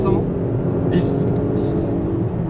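Audi SQ5 V6 car driving and accelerating, a steady, muffled engine and road rumble heard from inside the cabin, with people talking over it throughout.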